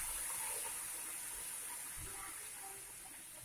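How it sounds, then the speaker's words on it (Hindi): Water is poured into a pan of frying sweet raw mango curry, a steady gushing stream that runs without a break and slowly eases off, with no talking. "अब हम इसमें थोड़ा पानी डालेंगे ताकि हमारी सब्जी अच्छे से पक जाए और थोड़ी रसीली बने।"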